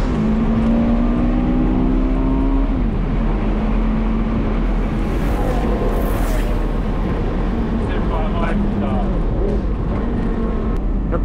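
A Porsche Carrera GT engine drones loudly and continuously from inside the car as it drives, its pitch climbing, dropping and rising again with the revs, under some talk.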